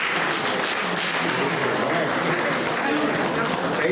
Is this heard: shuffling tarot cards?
no